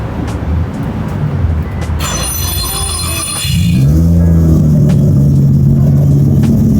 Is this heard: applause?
no